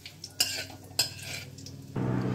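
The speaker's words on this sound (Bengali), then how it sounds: "ফোড়নটাকে কয়েক সেকেন্ড নাড়াচাড়া করে নেব" Nigella seeds and a dried red chilli tempering in hot oil, a spoon scraping and clinking twice against the pan, then a sudden steady sizzle swelling up as more goes in.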